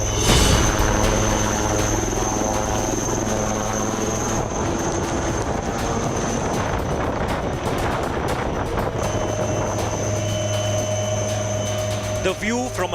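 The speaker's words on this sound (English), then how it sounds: "The view from a helicopter cockpit, flying between the world's highest landing grounds." Indian Army helicopter in flight over high mountain terrain, heard from inside the cockpit: a steady, loud rotor and turbine drone with sustained tonal whine running throughout, and a faint voice speaking over it.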